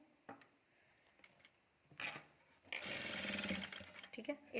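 A sewing machine stitches piping onto fabric, starting with a few short clicks and then a fast, steady mechanical whirr, with someone talking quietly around it.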